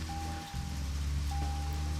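Steady rain patters continuously over a low rumbling drone, with a thin electronic tone sounding on and off, in the video game Deadly Premonition.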